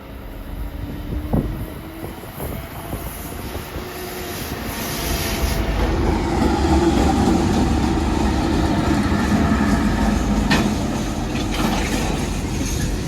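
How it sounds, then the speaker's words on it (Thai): Train no. 528 from Ubon Ratchathani rolls into Hin Lap station on a mountain line, a low engine rumble swelling as it approaches and staying loud and steady, with a faint horn-like tone early on. "เราจะเห็นขบวน 528 นะครับกำลังเข้ามา"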